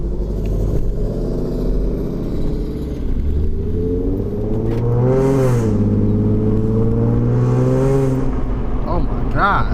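A catless V6 Ford Mustang accelerates hard from inside the cabin, its engine droning and rising in pitch through gear pulls, loud and continuous beneath people talking.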